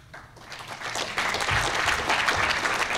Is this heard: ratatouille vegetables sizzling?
no